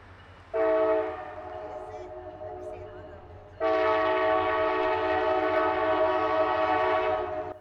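A CSX freight train makes a diverging move across a switch at an open rail junction. Two loud, sustained horn blasts ring out, a short one and then a long one, over a low rumble.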